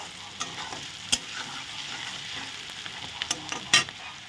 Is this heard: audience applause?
no